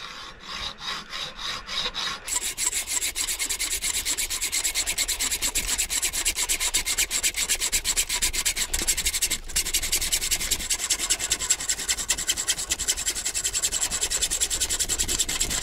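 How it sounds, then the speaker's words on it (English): A hacksaw cuts through garden trellis material for a raised bed, producing a long run of fast, steady back-and-forth rasping strokes, close and fairly loud, after a few slower opening strokes, with no speech. "I just need to get my hacksaw and cut that off."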